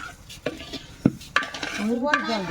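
Rice frying in a pot for quail egg biryani, stirred with a metal utensil that scrapes and clinks against the pan in irregular strokes over a faint sizzle, with no talking.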